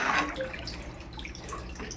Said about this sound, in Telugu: ఇప్పుడు నీళ్లు వేసేస్తాం సరిపడా